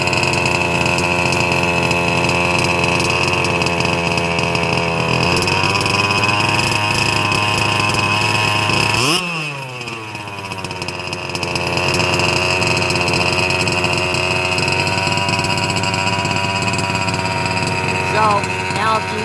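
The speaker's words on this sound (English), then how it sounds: "if you listen to the motor, you can almost hear how the revs are kind of getting higher." A fifth-scale RC car's small gas engine runs loud and buzzy near the microphone, its pitch rising as it runs out of fuel. Midway it drops briefly and then climbs back to a high, steady whine.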